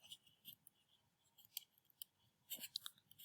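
A pen scratches on paper while physics working is written out. The strokes come as faint, scattered scratches and taps in irregular bursts, with sharper clusters near the end, and no talking.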